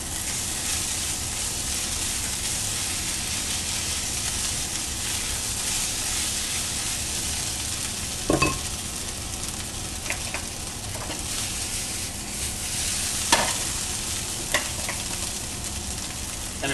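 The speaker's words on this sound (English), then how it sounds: "Finish our fried rice. We're going to put some fresh green onion in there." Fried rice with fresh green onion sizzles steadily in a hot pan, a continuous hiss broken by a few scraping stirs of the spatula, with no talking.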